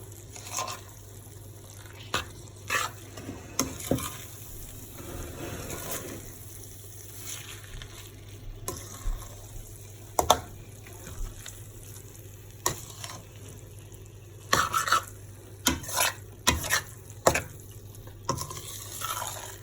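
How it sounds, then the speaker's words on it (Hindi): A spoon stirs urad dal in a pot on the stove, giving soft scraping strokes and scattered clinks against the metal over a low steady hum, with a faint sizzle in the background. "दाल में चम्मच चलाते वक्त बहुत एहतियात करें"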